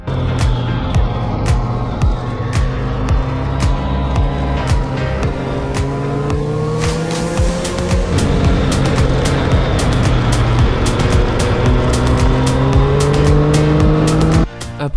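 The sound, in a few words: motorcycle riding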